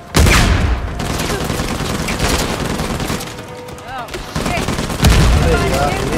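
Gunfire and grenade blasts in the video game Uncharted: Lost Legacy, loud rapid shots and booming explosions going on throughout, with brief quieter gaps and a player talking underneath.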